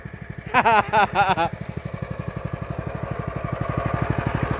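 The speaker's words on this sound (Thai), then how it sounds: "ถไถน้อยครับ รถไถน้อย" A small modified walking tractor engine runs steadily with a rapid, regular chugging pulse, close and fairly loud, while a voice talks briefly over it near the start.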